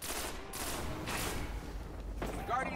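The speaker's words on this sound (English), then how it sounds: "He's sniping from far" Sniper rifle shots ring out in a Destiny Trials of Osiris match, a few sharp cracks spaced across a busy game mix with voices talking over it.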